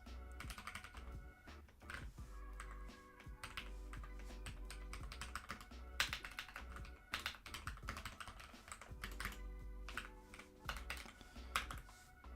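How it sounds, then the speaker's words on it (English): Continuous typing on a computer keyboard, with fast irregular key clicks close up over a steady low hum and faint background tones, and no voices. "I've got to practice typing."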